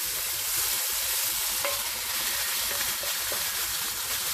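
Beef sizzling loudly in a very hot pot as it is spread out, a dense, continuous hiss with a few faint scrapes and clicks, close and with no talking.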